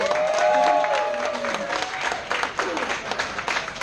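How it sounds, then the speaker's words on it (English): Wedding reception guests applaud the bride's sister's friends who helped, a dense round of clapping from the crowd with a voice speaking over it early on. "Can we give them a round of applause?"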